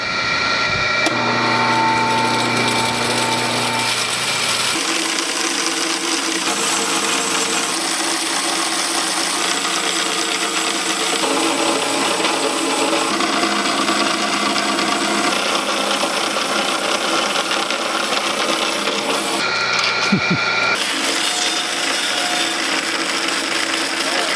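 A new blade on an electric saw aboard a ship, cutting steadily with a dense whining buzz that runs almost without a break, dipping briefly near the end before resuming.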